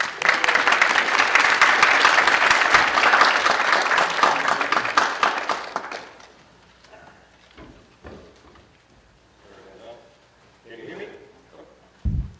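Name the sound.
audience applause welcoming speaker Hreinn Palsson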